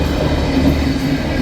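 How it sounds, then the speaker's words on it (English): Velocity passenger train passing with passengers aboard, a steady loud rumble of rail wheels and engine drone throughout, close by and without talk. "I heard the digital fart of a velocity train."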